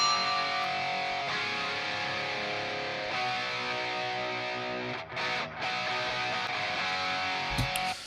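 Two overdriven electric guitars, each playing its own part, play together in dense, sustained layered chords, loud and steady throughout with no voices.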